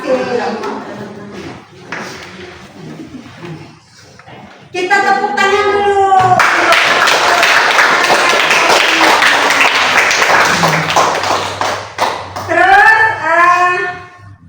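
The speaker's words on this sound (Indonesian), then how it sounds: "Kita tepuk tangan dulu." A classroom of students claps hands together in a dense, rapid patter lasting several seconds, bracketed by a teacher's voice and other speech before and after.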